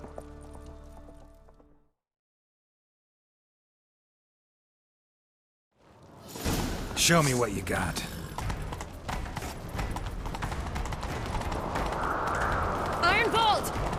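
Horse hooves pound at a gallop in The Witcher 3: Wild Hunt during a chase, a steady close rhythm over game music and effects, with a voice speaking briefly before a short silence.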